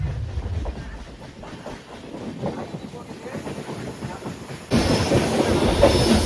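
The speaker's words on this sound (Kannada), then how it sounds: "ಈಗ ಬರ್ತಾ ಇರೋದು ಅಪೋಸಿಟ್ ಅಲ್ಲಿ ರಾಜ್ಯರಾಣಿ ಸೂಪರ್ ಫಾಸ್ಟ್ ಎಕ್ಸ್ಪ್ರೆಸ್ KSR ಬೆಂಗಳೂರಿಂದ ಮೈಸೂರಿಗೆ ಹೋಗುತ್ತೆ" Rajya Rani Superfast Express, bound from KSR Bengaluru to Mysuru, passing on the opposite track: a steady rumble with rail clatter, getting louder and fuller toward the end as it draws near, heard from inside a moving train.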